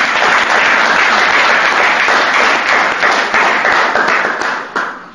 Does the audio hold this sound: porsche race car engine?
no